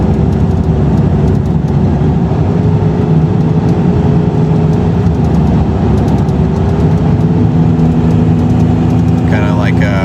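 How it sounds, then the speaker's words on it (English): A Land Cruiser engine drones loud and steady from inside the cab while driving and engine braking, a constant low rumble with road noise that holds level throughout, without clear talk. "I just get on the throttle and let an engine brake, and it drops right on down"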